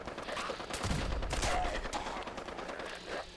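Rapid gunfire in the online game Fallout 76, a burst of loud sharp shots clustered together up close amid game noise, tapering into quieter rumble.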